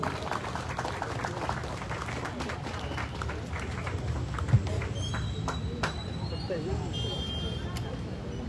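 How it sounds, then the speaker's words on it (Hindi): Audience applause at a student union's 40th foundation day event in Itanagar, a steady crowd clapping throughout, mixed with talk and hall noise. "चलिए एक बार जोरदार तालियां"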